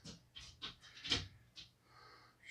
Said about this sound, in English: Sounds like my other dog's coming.